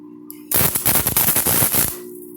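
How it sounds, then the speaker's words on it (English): A first-ever try at stick arc welding: a loud, harsh crackling sizzle with rapid popping bursts for about a second and a half, with a low electrical hum before and after. "I have never welded before in my entire life"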